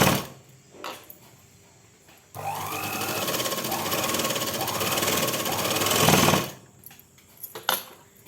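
An electric sewing machine stitches a seam on a salwar pant, giving a loud, close, steady mechanical whir that runs for about four seconds between quieter stretches with light handling clicks.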